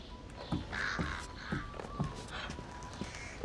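Crow cawing in the stealth video game Thief, several harsh caws spread across the moment over soft footstep-like taps and a faint hum.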